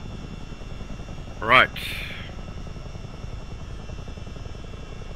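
A Chinook helicopter in a flight simulator game, with a steady low rotor drone running throughout, while someone briefly speaks over it.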